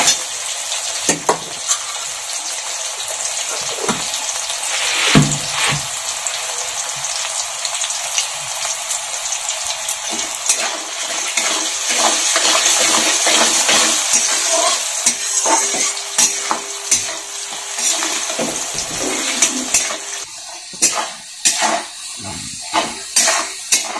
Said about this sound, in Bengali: এগুলোকে ভেজে নেব লাল করে